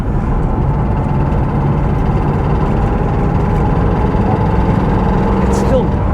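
A Porsche 912 engine idles at low revs, a steady low rumble holding an even tone throughout, close and fairly loud with faint background noise.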